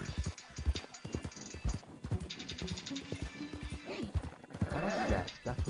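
Horse hooves clip-clop and a horse neighs in the video game Horse Simulator 2019, with rhythmic hoofbeats and whinnies mixed under intermittent talking.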